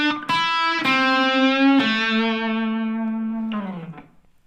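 Country blues-rock guitar lick in A, a few picked notes with bends and sustained tones ending on a held note that slides down and fades, played alone.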